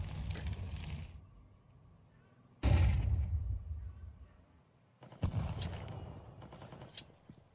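Gunfire in a Counter-Strike match between G2 and NAVI at the BLAST Premier World Final 2023, with loud bursts of shots and booming impacts separated by short lulls.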